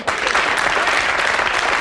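A 1994 television comedy studio audience bursts into dense, loud applause, a continuous wash of many clapping hands sustained throughout.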